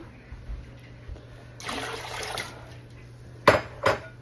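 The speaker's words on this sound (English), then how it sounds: "I poured hot water because I didn't want to cool my water down too much" Hot water is poured over tomatoes in a canning pot for hot-pack canning: a short gushing pour, then a couple of sharp metallic clanks from the pot.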